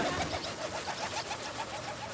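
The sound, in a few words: tropical birds calling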